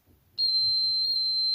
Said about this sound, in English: As you see, we hear a buzzer